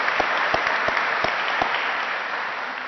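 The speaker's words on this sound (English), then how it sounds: "round of applause for everyone." An audience at a college senior student-athlete award ceremony applauds in a dense, even wash of clapping, with a few sharper claps standing out early on, steady and close throughout.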